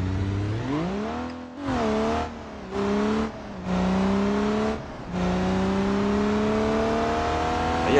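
A car engine in the BeamNG.drive driving game revs up repeatedly in rising bursts with short gaps between them. It then settles into a loud, sustained high-revving whine.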